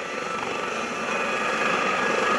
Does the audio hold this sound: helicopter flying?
yes